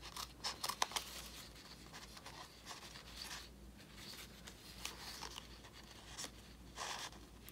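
Scissors snipping through paper for a planner page, quiet close-up cuts and rustling in irregular short bursts, faint and intimate with no talking.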